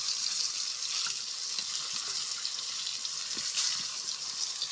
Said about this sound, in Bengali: দেখুন, বেগুনগুলো এবার ভেজে নেবে।